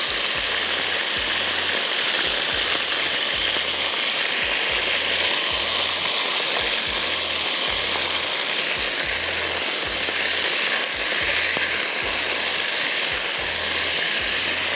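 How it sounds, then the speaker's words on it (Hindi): Cubes of chicken frying in a pan give a steady, loud sizzle that carries unbroken throughout, with a faint rhythmic low thumping pattern running underneath and no voices. "फाइव से 7 मिनट्स फ्राई करें जब तक कि चिकन का कलर चेंज हो जाए पिंक से"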